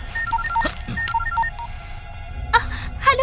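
A phone call being dialed: a quick run of DTMF keypad beeps, each tone short and distinct, then brief electronic ringback bursts near the end over a low room hum.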